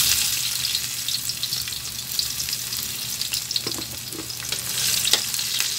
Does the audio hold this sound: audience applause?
no